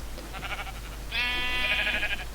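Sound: sheep bleating in a video game

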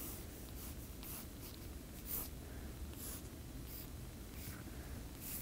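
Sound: painting long hair with acrylic on paper

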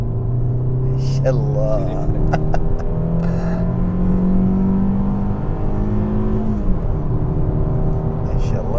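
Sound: 2019 Fiat 500 car accelerating

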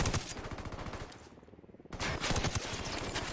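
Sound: Mk 18 rifle gunshots in a video game

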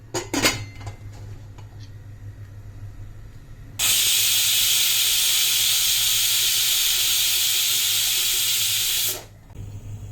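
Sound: pressure cooker hissing steam and whistling while cooking coconut rice

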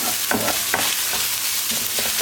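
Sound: stirring frying sauce with garlic and pepper spices

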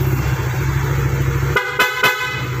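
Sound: PIAA motorcycle horn honking

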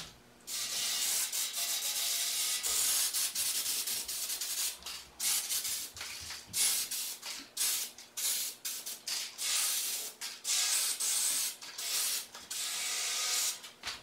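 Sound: scrubbing stained bakeware with an abrasive steel wool pad

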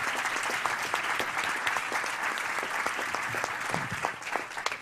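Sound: audience applause welcoming Hubert Auriol

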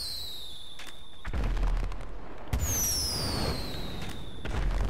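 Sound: fireworks exploding in video game GTA V Online

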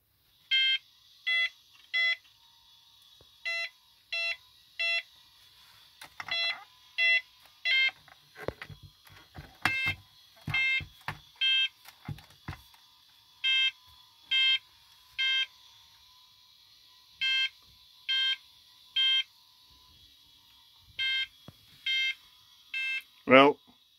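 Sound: vintage computer beeping

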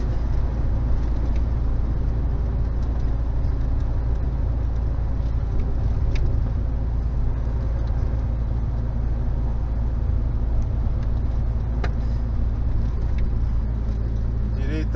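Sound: car driving on highway BR 146, slowing down

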